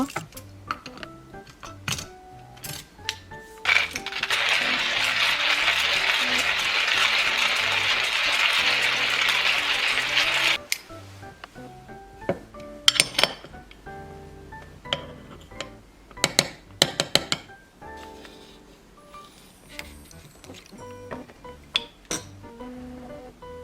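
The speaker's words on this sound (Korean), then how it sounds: "원두를 갈아서 에스프레소 추출을 한번 해볼게요" A Chefbon Esto all-in-one home espresso machine grinds coffee beans in a steady, loud whirring burst of several seconds, framed by clinks and taps of metal and glass parts being handled nearby.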